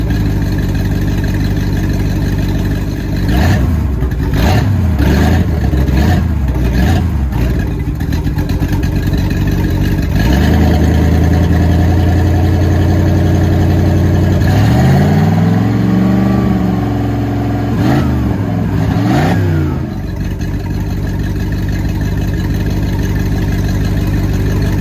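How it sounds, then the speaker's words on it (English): A boat motor, run while the boat is being winterized, idles loud and close, then revs up and down several times in rising and falling surges. "I just thought I'd rev it up for you guys that wanted to hear the motor"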